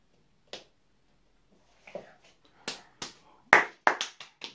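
A child claps hands during a puzzle game at home, a scattered run of sharp, close claps that starts with one isolated clap and then quickens into a burst of about seven or eight.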